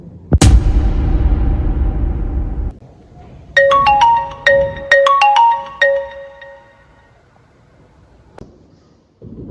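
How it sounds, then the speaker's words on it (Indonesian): A loud, noisy burst is followed by a telephone ringtone: a melody of bright, repeated electronic tones in short phrases that then fades to near silence, with no talking. "Telepon dulu Aiman deh."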